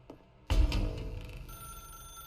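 A telephone ringing in the video game The Stanley Parable, a single close bell-like ring that bursts in suddenly and then fades away, with a thin tone lingering in a quiet room.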